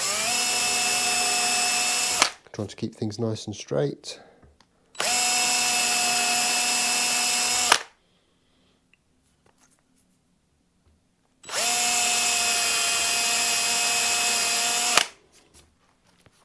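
Power drill with a 3mm bit, tape flag attached, boring holes into a Telecaster guitar body: three loud steady whirring bursts of about three to four seconds each, separated by quiet gaps with brief handling clatter and a few spoken words.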